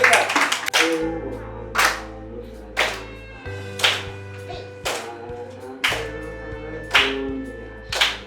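Rhythmic hand clapping from a group at an indigenous-language summer camp, with claps landing about once a second over sustained musical tones and some voices in the background.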